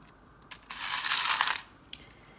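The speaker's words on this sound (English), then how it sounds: "they can be a bit loud when I shuffle them" A bright metallic jingling clatter swells for about a second as small metal charms are shuffled together for a tarot reading, with a few faint clicks before and after.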